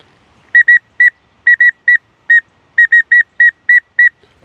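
A Drake whistle duck call imitating a green wing teal gives a dozen short, bright, piping whistles in quick uneven pairs and singles, loud and close with no other sound.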